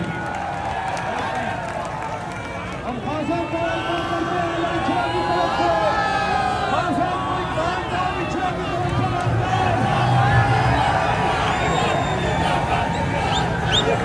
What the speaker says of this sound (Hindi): वो सामने भरपूर तालियां मियां महमूद रशीद साहब के लिए